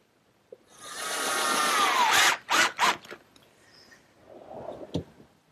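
A power drill drives screws to fasten a piece of 2x2 stock in a woodworking shop, one long whirring run followed by two short bursts and a final light tap, close and alone.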